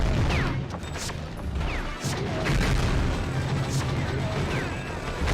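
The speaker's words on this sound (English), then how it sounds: "there's a big old dude with a big old rocket launcher there" Rocket launcher blasts and booming explosions from the Gungrave video game, dense, loud and continuous, layered with crackling gunfire and some game sounds.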